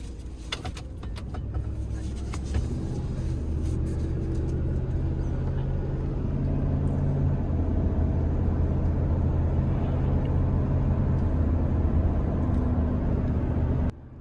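A car cruises down the highway after a shudder fix treatment, giving a steady low engine drone with road and tire rumble from inside the cabin, a few clicks and rattles early on, continuous throughout.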